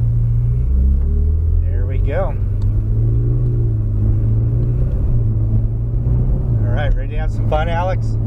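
A car driving laps on the Homestead Speedway track, heard from inside as a loud, steady engine rumble throughout, with brief revving and shifts in pitch, while people talk over it.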